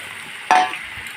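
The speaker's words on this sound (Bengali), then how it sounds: "এখন দিয়ে দেবো সবজিগুলা হাতে মাখিয়ে রাখা সবজিগুলা" Hand-mixed vegetables tipped into hot mustard oil seasoned with kalonji for a kachki fish chorchori, hitting with a sudden loud hiss that quickly settles into a softer, steady sizzle.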